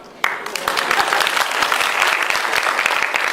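Sustained applause from an audience, many hands clapping densely and steadily after a sharp onset, with no pause throughout.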